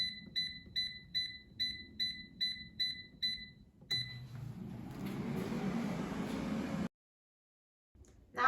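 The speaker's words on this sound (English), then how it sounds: "Now the air fryer is done cooking" An air fryer beeps at the end of its cooking cycle, sounding eight evenly spaced electronic beeps in a steady pulse, followed by a louder, broad whooshing hum that runs for a few seconds before cutting out.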